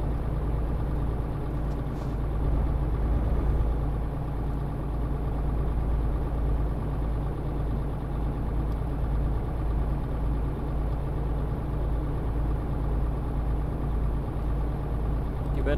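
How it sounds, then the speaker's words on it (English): A tractor engine running on a road, a steady low rumble heard from inside a moving vehicle, continuous and even throughout with faint road noise. "Oh, tractor."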